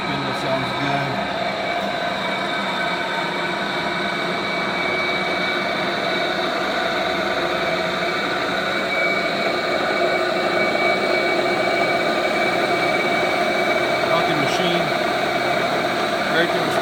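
A Lagun FTV-2S two-axis CNC vertical milling machine runs its spindle steadily in a workshop, a continuous mechanical hum with whining tones that holds level throughout, with a person talking over it.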